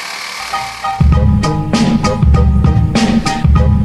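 Power saw fitted with a Swiss-made Diablo carbide-tipped blade cutting 3/8-inch-thick steel, a loud close motor whine that rises as the blade bites in, then a harsh sustained grinding with rhythmic pulses and no speech.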